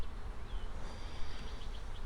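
Honey bees buzz steadily around an open hive during a swarm inspection, a dense close drone with a few sharper passing buzzes, no talking.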